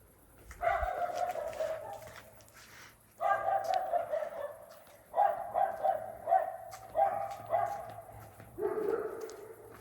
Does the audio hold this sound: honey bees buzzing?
no